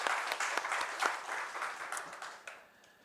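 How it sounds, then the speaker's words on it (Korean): A church congregation applauds during a Sunday worship service, a dense wash of many hands clapping that holds steady and then thins out and fades toward the end. "우리 하나님께 영광의 박수 올려드리겠습니다."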